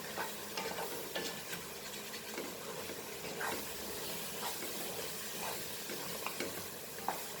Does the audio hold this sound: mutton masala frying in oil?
yes